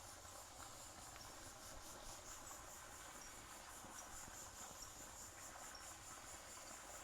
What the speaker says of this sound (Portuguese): E olha o som da cigarra.